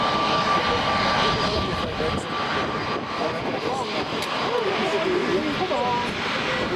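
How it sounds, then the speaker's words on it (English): A SunExpress Boeing 737 MAX 8 roars at takeoff from Manchester Airport, its jet engines giving a loud, sustained rumble that fills the whole clip while a person talks over it. "Rotating Sun Express, flight 595, Boeing 737 MAX 8"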